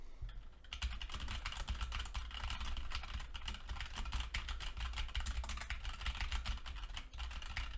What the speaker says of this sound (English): I've got a linear red switch mechanical keyboard right here. I'm going to go ahead and bang around on it, do some typing